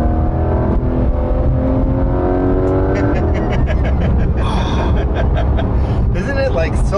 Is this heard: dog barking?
no